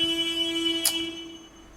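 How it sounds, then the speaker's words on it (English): A drinking-water delivery vehicle sounds its loud horn in a steady, sustained tone that holds for well over a second, heard alone with a brief click partway through. "that particular honk is like the loudest here"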